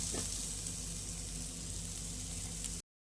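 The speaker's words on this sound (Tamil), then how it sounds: "பாதாம் வந்து உடச்சி வச்சுருக்கேன் லைட்டாக நெய்யில் போட்டுக்கலாம்" Broken almonds fry lightly in ghee for a Tamil puffed-rice laddu, giving a steady, close sizzle that holds evenly for almost three seconds before cutting to silence.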